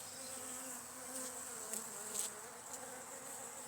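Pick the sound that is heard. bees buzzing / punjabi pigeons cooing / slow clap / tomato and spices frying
bees buzzing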